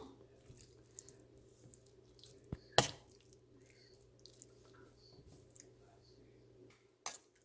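Tamarind water poured into an ivy gourd (kovakkai) milk curry makes a faint, low watery trickle over a steady background hum, broken by two brief sharp clicks of utensils.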